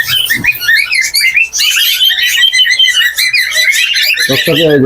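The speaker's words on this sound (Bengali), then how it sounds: "এক জোড়া রানিং কোকাটেল পাখি একটা বিফাইড আর একটা লুটিনো" A pair of cockatiels, one pied and one lutino, chirp and whistle loudly and close up at a bird shop, a busy overlapping stream of shrill calls with a brief voice near the end.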